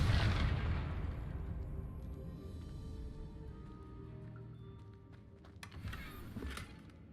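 A Confringo blasting spell explodes in Hogwarts Legacy, opening with a loud boom that decays into a rumbling tail, then a smaller burst of crackling impacts near the end.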